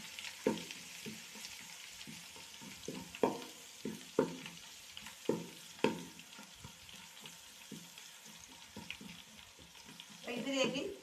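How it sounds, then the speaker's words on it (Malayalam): Ginger and garlic fry in hot oil for a Kerala-style chicken curry, a soft continuous sizzle broken by repeated taps and scrapes of a spoon stirring in the pan, fairly quiet and close. "ചെറിയ ഒരു കളർ വരണത് വരെ നമുക്ക് ഇത് വറുത്ത് കൊടുക്കാം."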